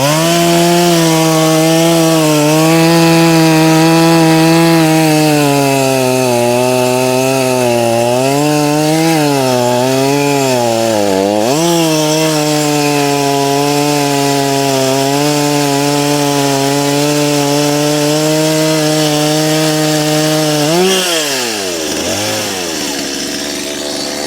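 A chainsaw cuts a dovetail joint in dry oak, its engine holding a loud, steady whine under load with pitch dips as the chain bites, then winding down near the end; no talking.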